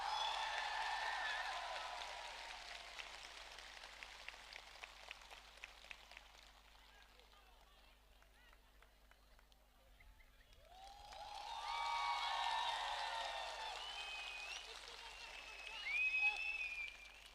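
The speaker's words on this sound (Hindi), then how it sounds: "बड़े हाथ से ताली दे के please give him the respect" Audience applause at a Tipra Motha political stage event in Bubagra, clapping swelling and fading in two bursts with a quieter lull between.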